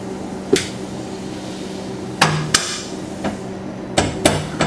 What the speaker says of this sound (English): pound it on a little, just like that, a rubber mallet.